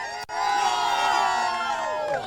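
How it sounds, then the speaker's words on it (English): A speedway crowd cheers and whoops for a track champion, a loud blend of shouting and cheering that carries on steadily with one brief dip at the start. "How about a round of applause?"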